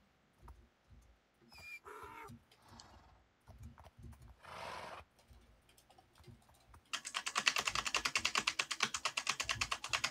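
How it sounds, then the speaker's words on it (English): A computer keyboard is struck hard and fast in a rapid, loud clatter of keystrokes during the last few seconds, after scattered quieter clicks and rustles earlier on. "Who is angry typing?"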